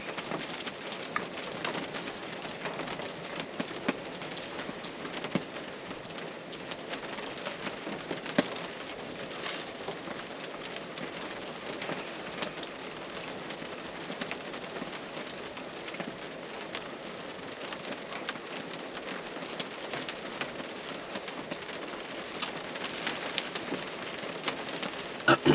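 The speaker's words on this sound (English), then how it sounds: "I don't know what it is about when it's raining, when you're camping, camping in the rain." Steady rain patters on a truck during a rainy camping trip, a dense continuous hiss of drops with occasional louder taps, close and unbroken throughout with no voices.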